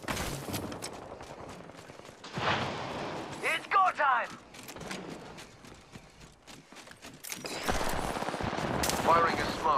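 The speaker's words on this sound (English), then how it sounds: "Firing a smart bullet." Rapid smart-bullet gunfire in the video game Apex Legends, delivered in dense bursts with impacts and whirring weapon sounds, loud and close, while a voice speaks among the shots.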